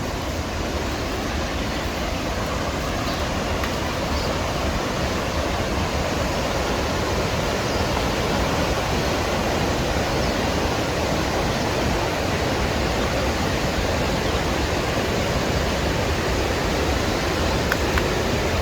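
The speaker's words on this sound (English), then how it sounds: "get a good shot of these rapids" Steady, loud roar of rushing river rapids at Talon Chutes, a dense unbroken wash of water that holds constant throughout with no voices.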